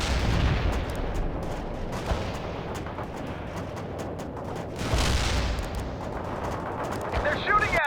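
Continuous battle noise of rapid gunfire and muffled booms in the World in Conflict video game, a dense, steady din at moderate level with a heavier burst midway and voices mixed in.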